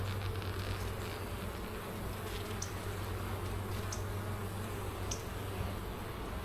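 Honey bees at an open hive during a summer inspection, with a dense, steady buzzing drone filling the air close by, constant throughout and joined by a few faint ticks.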